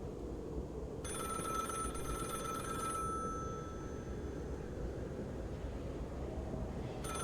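An old-style telephone bell rings in one continuous two-second burst over a low droning ambience in The Cabin Factory horror video game, then a second ring begins just at the end.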